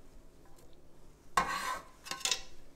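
Mashed chickpeas for a Kung Pao lettuce wrap filling are tipped into a pan. A quiet room breaks into a sharp burst of clattering and scraping, then a few more brief clinks of utensil on pan.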